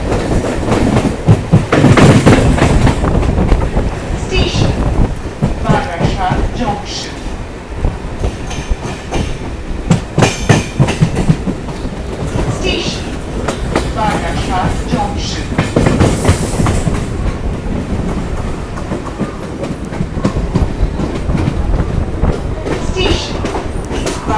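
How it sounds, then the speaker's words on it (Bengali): A Sealdah–Bangaon suburban local train pulls away from Hridaypur toward Barasat, its wheels clattering loudly and rhythmically over rail joints with rattling carriages, occasional squeals and a steady interior rumble. "আমাদের ট্রেনটা কিন্তু এখন হৃদয়পুর থেকে ছেড়ে দিল"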